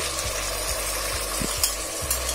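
Chopped tomatoes, raisins, cashews and kasuri methi sizzle in a hot pan for biryani, with a steady close frying hiss broken by a few scraping stirs and no talking.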